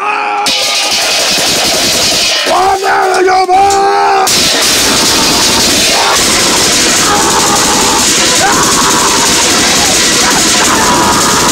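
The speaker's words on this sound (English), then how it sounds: "Explosion!" Video game explosions in the Wither 3 series: loud, booming blasts and crashes that keep going without a break, with excited voices yelling over the chaos.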